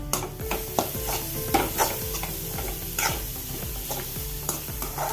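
Bitter gourd stir-fry is stirred in a pan, a spatula scraping and clicking repeatedly against the metal over a continuous sizzle, fairly close and moderately loud.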